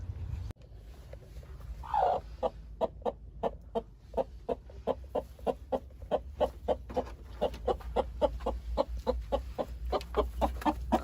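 A broody hen clucks in a steady series of short, repeated clucks, fairly close, after one louder squawk near the start.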